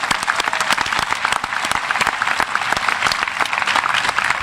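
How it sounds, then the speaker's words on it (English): Loud, dense applause from a high school graduation audience, steady sustained clapping with no pause throughout. "Let's give all these students a round of applause."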